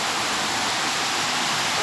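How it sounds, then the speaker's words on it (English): Floodwater pours down a stairwell carrying rubbish and mud, a steady broadband rushing roar like a waterfall, continuous and fairly loud with no voices. "A stairwell turns into a dangerous waterfall of rubbish and mud"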